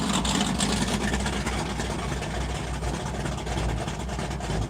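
Steady, loud low rumble of traffic with engines droning continuously, like a stream of vehicles passing close by.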